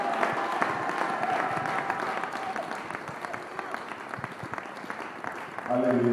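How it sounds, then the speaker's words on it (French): Church congregation applauding loudly, with sustained dense clapping through the stretch and a voice speaking over it near the end. "On acclame très fort le Seigneur."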